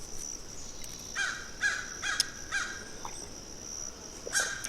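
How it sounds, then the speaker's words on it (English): Crows caw outdoors in a series of about five harsh, separate calls at moderate distance, spaced irregularly over a steady background hiss with a faint high insect-like tone. "Thank you, crows."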